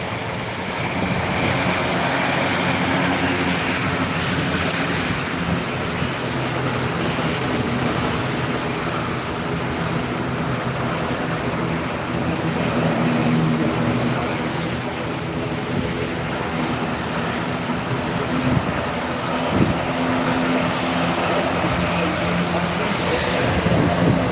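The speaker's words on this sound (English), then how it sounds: "canary fly is just doing a power back there" A Canaryfly airliner powers back from its stand at Gran Canaria Airport, a steady broadband engine roar that holds constant and loud throughout with no breaks.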